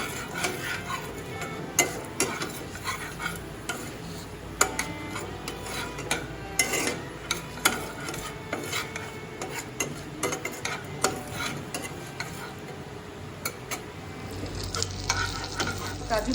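Whole cashews sizzling in hot fat in a pan alongside mace, green and black cardamom, bay leaf and cloves, a steady frying hiss broken by frequent stirring scrapes and clinks, close and moderately loud.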